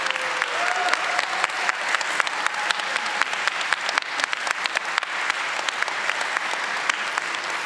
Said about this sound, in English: One last round of applause for all our contestants tonight.